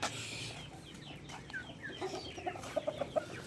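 Hens clucking softly and intermittently while being fed fresh grass, a few short nearby clucks and calls rising over a low, noisy farmyard background.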